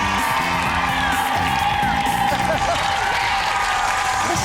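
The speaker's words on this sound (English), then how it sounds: "Listen to all that applause." Studio audience applause during a game show, with cheering and whoops mixed in, steady and loud across the whole stretch, with a host's voice and music playing underneath.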